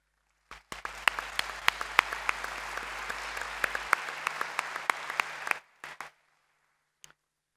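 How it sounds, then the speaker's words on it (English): A conference audience at an economics lecture claps steadily for about five seconds, a dense even patter of hands at moderate level that stops abruptly, followed by one or two stray claps. "we should applaud them for the organization"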